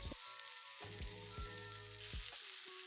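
Capsicum sautéing in oil with a spoon of red chili sauce for veg Manchurian, a soft sizzle with a few tonal clinks from the pan or spoon over a short stretch, no talking.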